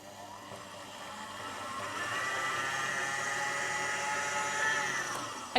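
Electric mixer whirring steadily as it beats milk into chocolate buttercream frosting, a continuous motor drone that grows slightly louder partway through, with no talking.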